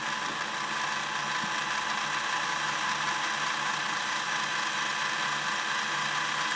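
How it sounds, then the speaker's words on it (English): Metal lathe turning a steering shaft held in the chuck while the hub of a homemade dump truck is trued up, giving a steady, loud, even whine that holds unchanged throughout. "now I'll put the shaft through the chuck in the lathe and just truing up the"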